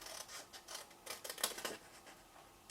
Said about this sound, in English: and cut just a tiny little notch out, just to make it easier for folding